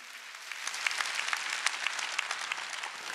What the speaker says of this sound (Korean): 박수 치라 박수 치라